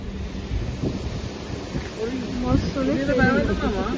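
Loud rushing roar of water spraying from three open gates of Srisailam dam, mixed with gusty wind buffeting the microphone; a person speaks over it in the second half.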